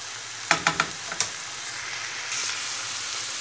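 Chicken frying in a pan as onions and peppers go in, a few sharp clattering stirs followed by a steady soft sizzle, close and without talk.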